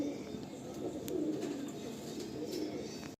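A Malwai pigeon gives soft, low cooing, close by but faint, with a steady background hiss.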